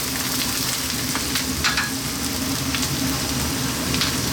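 Garlic dropped into a frying pan for vegan cauliflower fried rice gives a loud, dense, continuous sizzle that holds evenly throughout, with no voices.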